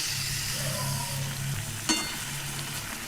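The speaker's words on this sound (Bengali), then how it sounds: "চিকেনটাকে একটু নাড়াচাড়া করে ভালো করে কষিয়ে নিতে হবে" Marinated chicken stirred and fried in a pan over high heat, a steady close sizzle with soft scraping and one sharp clink of the utensil near the middle.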